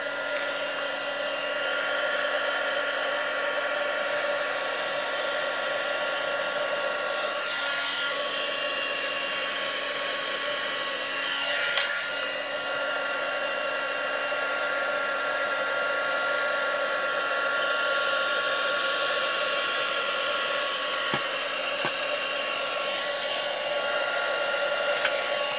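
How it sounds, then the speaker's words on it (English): A hair dryer blows continuously with a steady whirring hum, close and loud, its tone wavering briefly as it moves. "You can use hairdryer, guys, actually, if you wish."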